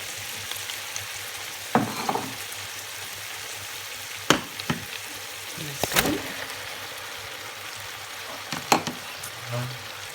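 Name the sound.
meat frying in a pot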